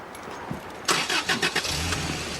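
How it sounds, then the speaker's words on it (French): A car engine cranks briefly, catches, and settles into a steady idle hum, heard up close. "Voulez-vous entendre le bruit du moteur?"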